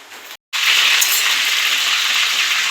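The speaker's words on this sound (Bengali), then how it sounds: "এখন আমি তেল দেব," Mustard oil hits a hot pan for a Bengali chicken curry: a brief silence, then a loud, steady hissing sizzle that holds evenly.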